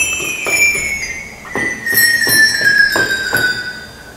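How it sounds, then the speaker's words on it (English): Two sleigh bells in the percussion chamber of a 1928 Wurlitzer Fox Special theatre organ at the Fox Theatre, St. Louis, jingling in a steady repeated shake for several seconds, bright and close. "two sleigh bells."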